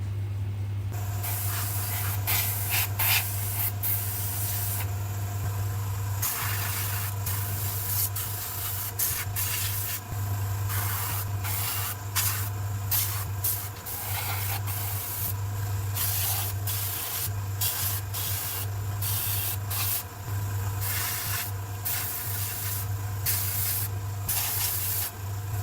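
An airbrush hisses steadily while spraying paint onto a Challenger main battle tank model, a close, continuous airy spray with brief pauses and a low compressor hum underneath.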